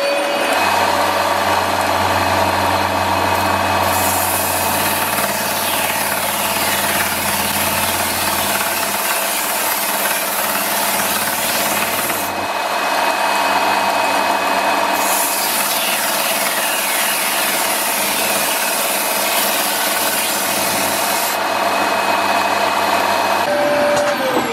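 A thicknessing machine working bird's eye wood violin ribs, a loud continuous roaring hum with rasping, rubbing cutting noise that swells as each rib passes through, repeating in long passes without talk.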